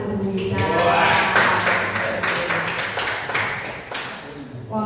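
A short burst of clapping for a teacher, Bu Rita, in a group of teachers, a few distinct nearby hand claps that thin out, with talking mixed in over the claps.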